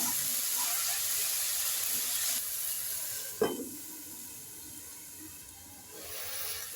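Bathua greens frying in a pan with potato and eggplant, a steady hiss and sizzle with a brief clack of stirring partway through, fairly close and with no voices.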